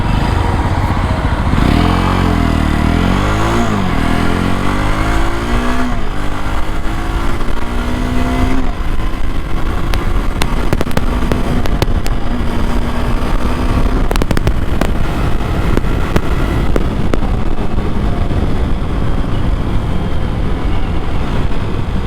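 A Jawa 42 single-cylinder motorcycle, the Orient red variant, accelerates hard along a road, its engine note climbing through several gears with brief dips at each shift, loud and close with steady wind rush throughout.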